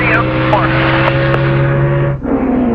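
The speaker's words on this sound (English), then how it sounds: "There's Kenny Schrader trying to make a move on the inside of Billy Bigley." NASCAR trucks, including a Chevrolet, race at the 2001 Kroger 200, with loud, sustained engine roar and rising and falling whines as trucks pass close by, and race commentary talking over it.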